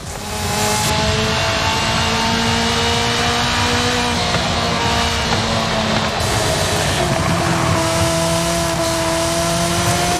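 A car engine in the video game Forza Horizon 5 roars continuously at high revs with rising and falling pitch, loud and close, against dense road noise.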